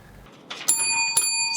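Contestant's bell on a TV quiz show rung twice, bright sustained metallic rings with long ringing tones, the second strike about half a second after the first, clear and close.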